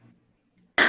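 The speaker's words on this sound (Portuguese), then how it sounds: "Até vou tossir aqui, ó." A single short, sharp cough bursts out at the very end after near silence, close and fairly loud.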